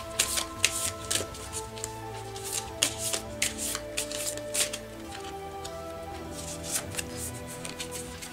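Oracle cards shuffled by hand before a single card is drawn, a steady run of soft riffling flicks and slaps close up, with quiet background music and no talk.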